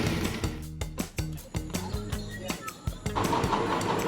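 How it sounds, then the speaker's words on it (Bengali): A motorbike engine is started for a road trip to Bakkhali, sputtering in quick, rhythmic pulses before catching into an uneven, close running chug. "তো এইবার আমরা বাইক স্টার্ট করে বেরিয়ে পড়বো"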